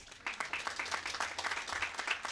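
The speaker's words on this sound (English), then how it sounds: "Let's give him a great applause." A short burst of applause from a crowd at a Veterans Day event in Baldwin Park, steady clapping heard at a moderate distance, fairly faint.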